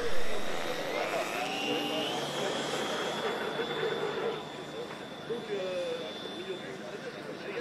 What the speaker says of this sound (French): Our next competitor to take off, number 60, Mr. Sebastiano Silvestri.